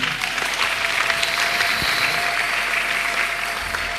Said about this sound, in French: Applaudis le Seigneur.